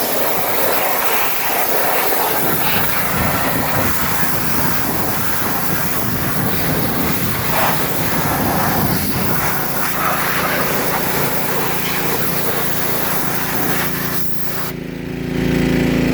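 Pressure washer blasting dirt and grime off a Gravely ZTX-52 zero turn mower, a loud steady broadband hiss with a lower engine drone beneath, running continuously before cutting off near the end.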